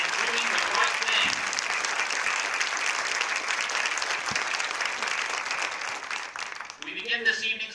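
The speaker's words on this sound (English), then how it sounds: "Please give a huge round of applause to our students" Audience applause for the Strongsville Marching Mustangs band students at a football game, a steady, broad wash of clapping that holds for several seconds, then thins toward the end.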